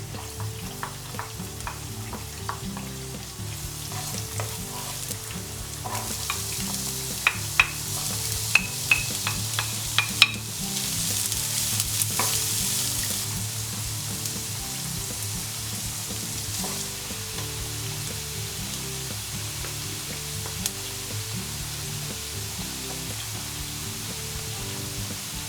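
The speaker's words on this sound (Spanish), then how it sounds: "vamos preparando el sofrito de verduras" Vegetable sofrito for a vegan moussaka fries in a pan with a steady, loud sizzle, broken by scattered clicks and scrapes of stirring.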